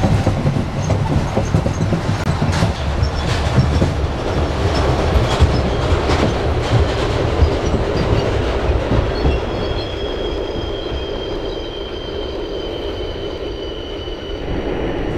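A New York City subway train in the OpenBVE train simulator runs steadily with loud continuous rumble and rhythmic wheel clatter, a faint high whine emerging toward the end; no voices.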